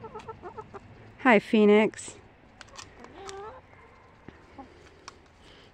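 Backyard hens cluck and squawk in short bursts, with a couple of loud close calls and softer clucking around them while a person speaks briefly.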